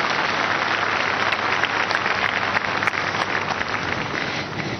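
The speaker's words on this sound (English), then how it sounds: "Let's clap for Jesus Christ." A church congregation at a Sunday service claps loudly and continuously, a dense wash of applause that sounds almost like heavy rain, with no speech over it.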